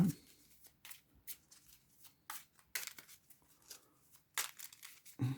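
Marvel Champions game cards being shuffled by hand, a run of quick papery riffles and flicks in short bursts with brief pauses, close and fairly quiet, with no talking.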